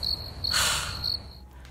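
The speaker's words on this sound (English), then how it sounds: "crickets." Crickets chirp as a sound effect, a steady high trill pulsing a few times over a soft night-air hiss, brief and alone without any voices.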